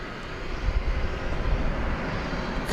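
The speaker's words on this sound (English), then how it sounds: "That American Eagle plane" An American Eagle regional jet comes in to land at Dallas Fort Worth airport at night, its engine a loud, continuous low roar and rumble with no talking.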